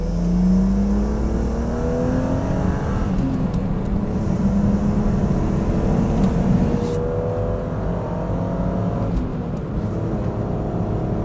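A car engine revs and pulls hard on a country road, its droning pitch sweeping upward through the gears, loud and close from inside the cabin, continuous throughout.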